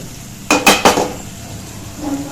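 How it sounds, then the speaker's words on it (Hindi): A metal lid is set onto a cooking pan of brinjal, giving two or three quick close clanks, followed by quiet and a faint sizzle from the pan. "उसकी लीड लगा देंगे"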